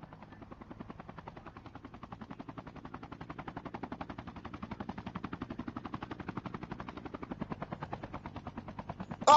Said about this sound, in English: Just a chopper party. Two choppers.